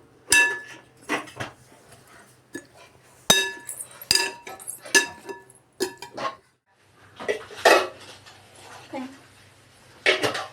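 Cucumber salad is stirred in a bowl, producing bright, close clinks and clatters of a utensil against the dish in irregular bursts separated by short quiet gaps.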